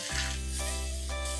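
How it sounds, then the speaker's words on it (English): Steady sizzling of sliced onions frying in a hot pan, a continuous crackling hiss over a low hum, with no talking. "I'm going to add 3 onions that I have sliced and I'm going to fry them nice and golden"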